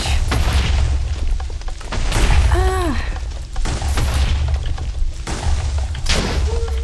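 Heavy booming bursts come from creepers exploding in Minecraft, with several thuds spread across the clip. A game tone sweeps upward in the middle, and a few faint voices can be heard underneath.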